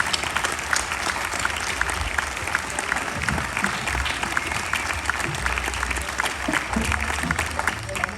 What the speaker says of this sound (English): Please join me in a round of applause to acknowledge the men and women of our own